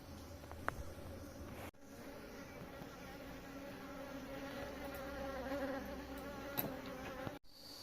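Honey bees buzz around opened hive boxes in a hillside Uttarakhand setting, a faint continuous drone of many insects with a couple of soft knocks.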